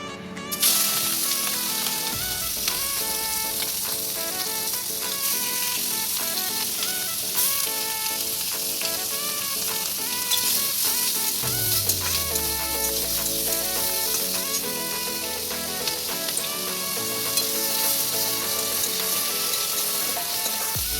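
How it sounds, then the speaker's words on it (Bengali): Shrimp fry in oil with a paste of mustard and poppy seeds, green chili, salt and onion paste, giving a loud, unbroken sizzle and spatter that runs steadily throughout. No one speaks. "মাছ একটু ছোটো তেল দিয়ে ভাজবো।"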